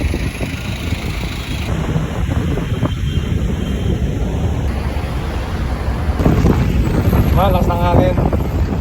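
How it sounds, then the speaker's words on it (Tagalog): Strong wind roars steadily across the microphone throughout a bike ride along a seaside boulevard, a loud continuous rumble with faint voices mixed underneath. "Lakas ng hangin."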